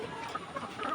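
Layer hens cluck on a poultry farm during a hot spell, soft overlapping calls forming a steady, fairly faint flock murmur with no voices over it.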